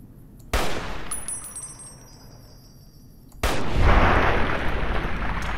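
Two loud gunshots from a Chinese sniper rifle in the Fallout New Vegas game with the Project Nevada mod, the first a sharp crack with a ringing tail, the second about three seconds later followed by sustained noisy rumble.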